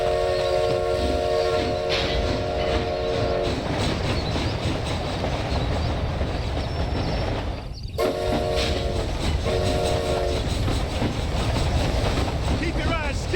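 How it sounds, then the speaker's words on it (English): A train in the Red Dead Redemption: Undead Nightmare video game rumbles steadily along the rails in a loud, continuous roar, and its horn sounds in repeated blasts near the start and again near the end. "Is this train headed for Mexico?"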